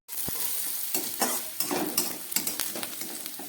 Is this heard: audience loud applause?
no